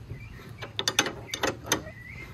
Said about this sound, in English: so I'm tightening the 17 mil.